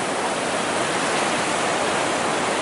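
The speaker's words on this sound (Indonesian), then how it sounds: "Jadi gelombang ini cukup deras ya, cukup kencang ya" Strong river current rushing where two streams meet, a dense, steady broadband roar of turbulent water, close and continuous without pause.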